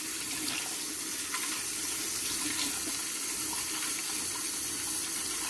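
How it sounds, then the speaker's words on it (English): Steady running tap water splashing over a brush being rinsed under a faucet, continuous and fairly close, with no talking. "And I rinse off all of that."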